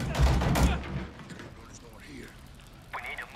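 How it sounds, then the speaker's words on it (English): Gunfire in Call of Duty MW2 on the Dark Water level, a loud burst of rapid shots up front that fades into quieter rattling and distant effects while a person talks. "Oh, the bullets sound better, though."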